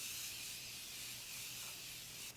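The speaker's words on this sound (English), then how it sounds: "Now let's do some spray just to let things be settling in." Makeup setting spray mists out in one continuous faint hiss lasting a couple of seconds, quiet and close, cutting off at the end with no talking.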